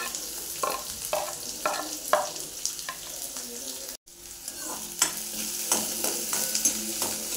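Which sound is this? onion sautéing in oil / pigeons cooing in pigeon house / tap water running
onion sautéing in oil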